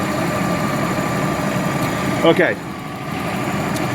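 A car engine idles steadily while the radiator's electric cooling fan kicks in, adding a brief surge near the middle before the idle settles again; someone speaks a few words over the running engine.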